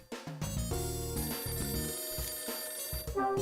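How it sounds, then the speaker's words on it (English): A phone rings in the Last Window video game, a repeating electronic chime with layered bright tones and stepped notes, steady and moderately loud without speech. "My phone again."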